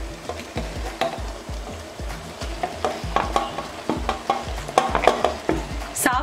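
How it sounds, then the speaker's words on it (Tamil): Rice being stirred into Nallampatti chicken masala in a pan, with steady rhythmic scraping strokes over a constant frying sizzle, close and fairly loud, with no talking. "சாப்பாடு விட்டு கிளறிட்டோம்"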